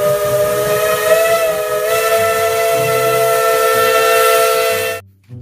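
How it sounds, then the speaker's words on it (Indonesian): A Thomas toy train's steam whistle blows as a loud, steady, sustained tone with hiss, held for about five seconds before cutting off abruptly. "Dan yang terakhir, kereta Thomas"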